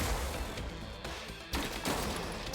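Rapid bursts of gunfire from robots in the strategy game Gladiabots, volleys of dense crackling shots that pause briefly and resume, heard alone without talk.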